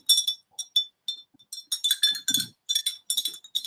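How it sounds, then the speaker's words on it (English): A spoon clinks rapidly and repeatedly against a glass while stirring sugared lemonade, bright close ringing taps in quick bursts with no voices. "Stir it well nicely so that the sugar will mix properly."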